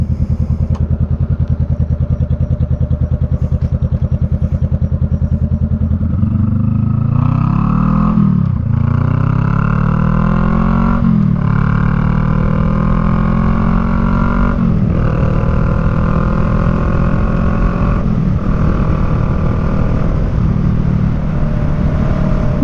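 A Honda Rebel 500 with a new aftermarket muffler idles loudly up close, then is revved several times, its deep throaty exhaust rising and falling in repeated surges.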